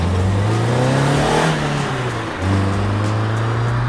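A Renault Clio 2 R.S. Trophy engine revving hard, a loud, close, continuous roar that climbs in pitch, dips for a moment as it shifts, then rises again to a sustained high drone.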